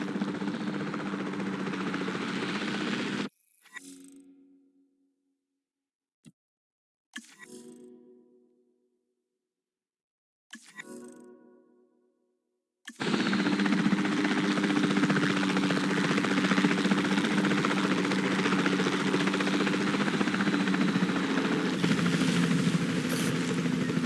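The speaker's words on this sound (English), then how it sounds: "Then the sensible thing is to take a capture team helicopter." A capture team helicopter in the park-building game Jurassic World Evolution 2 gives a loud, steady rotor and engine roar. It is cut by several seconds of near silence and short bursts, then returns at full strength.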